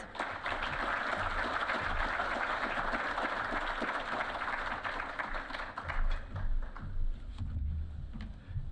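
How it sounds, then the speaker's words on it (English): Applause from an audience at an awards event, greeting the season's Jet Award winner: steady broadband clapping that fills the room, with a few deeper thumps and murmurs toward the end. "Let's give Michael a round of applause"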